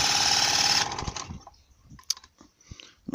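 A Velosolex 330 moped engine is turned over at full throttle and fails to start, giving a loud, dense mechanical rattle for under a second, then a scatter of quieter clicks and knocks.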